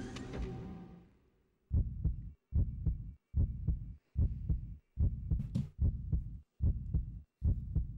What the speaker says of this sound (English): And why are the heartbeats getting more intense?